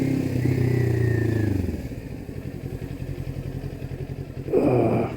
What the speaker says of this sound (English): Because I'm on a motorcycle.